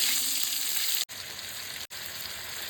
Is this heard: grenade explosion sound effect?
no